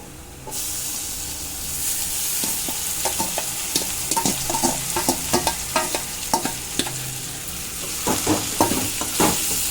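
Cooked cabbage and carrot added to sautéed onions in a frying pan and stirred, giving a burst of sizzle followed by a steady hiss with frequent spoon scrapes and clinks against the pan, close and fairly loud.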